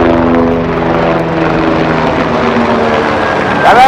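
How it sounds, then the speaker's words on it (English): Helicopter flying overhead in a park in Nepal, a loud, steady rotor and engine drone that fills the whole stretch without pause. "There's this helicopter that's distracting us now"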